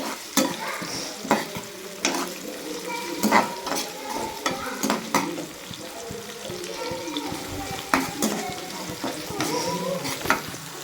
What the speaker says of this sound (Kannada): ಈರುಳ್ಳಿ ಸ್ವಲ್ಪ ಹಸಿ ಸ್ಮೆಲ್ ಹೋಗಬೇಕು ಮತ್ತು ಸ್ವಲ್ಪ ಕಲರ್ ಚೇಂಜ್ ಆಗಬೇಕು ಅಲ್ಲಿ ತನಕ ಸ್ವಲ್ಪ ಫ್ರೈ ಮಾಡ್ಕೊಳ್ಬೇಕು